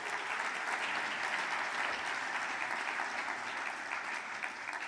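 Warm, steady applause from a large audience at a European heritage awards ceremony, a continuous wash of many hands clapping, heard at moderate distance and without voices.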